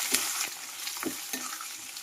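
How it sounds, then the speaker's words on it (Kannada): Onion, green chili and curry leaves fry in a pan with a steady close sizzle, broken by a few scraping stirs of a spoon over about two seconds. "ಉಳ್ಳಾಗಡ್ಡಿ ಚಲೋಟಂಗೆ ಫ್ರೈ ಆಗ್ಬೇಕು"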